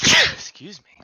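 A loud, sharp sneeze bursts out at the start of a tabletop role-playing game session, followed right after by a person speaking briefly.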